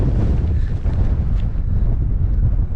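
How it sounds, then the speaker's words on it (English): Strong wind buffets steadily at an abandoned quarry in the Peak District, with a deep, rumbling roar, loud and continuous, with no voices. "it's going to be a bit too windy"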